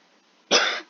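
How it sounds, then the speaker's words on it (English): A single short, harsh cough, close and fairly loud, after a brief quiet moment. "This cough is getting the better of me now."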